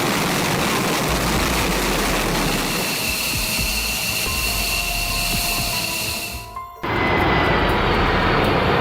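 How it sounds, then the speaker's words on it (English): An F-16 jet engine at full afterburner roars loud and close with a broad rushing blast, briefly dipping near the end before the roar resumes at full force. "Full afterburner, F-16 burning 11 liters per second."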